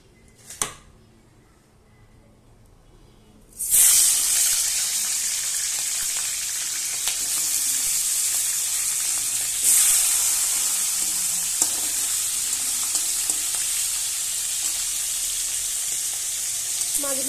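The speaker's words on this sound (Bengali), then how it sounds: "মাছগুলো আমি ভালো করে ভেজে নেব।" Rupchanda fish (pomfret) dropped into hot oil in a wok, a loud hissing sizzle bursting in after a quiet start and holding steady, with a second surge and scattered pops and light utensil taps.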